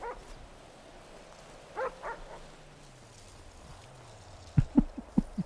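A dog in the FiveM game world yelps and whimpers in short bursts, then lets out a quick run of loud, close barks near the end, over a quiet background hum.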